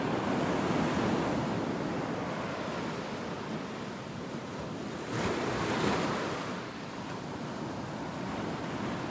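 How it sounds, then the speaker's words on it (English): Ocean waves breaking on a Punta Cana beach, a continuous wash of surf with a swell in loudness midway, mixed with light wind noise on the microphone and no voices. "The waves look a little bit rougher."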